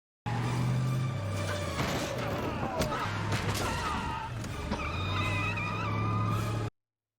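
A car from a TV show pulls away with tires skidding, a sustained loud roar of engine and squealing rubber that holds steady for several seconds before cutting off abruptly.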